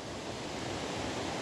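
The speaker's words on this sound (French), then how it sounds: "Une magnifique rivière" A river rushes among granite boulders in the Tarn, southern France, a steady, dense broadband roar with no pauses.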